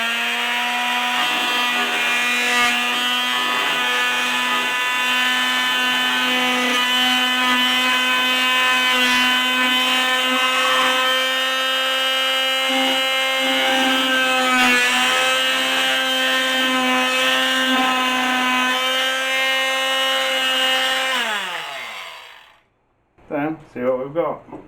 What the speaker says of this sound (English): We're just going to use a multi-tool with a little saw blade in.